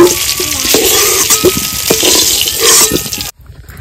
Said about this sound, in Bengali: আলু ভাজা হয়ে গেছে, তুলে নেব।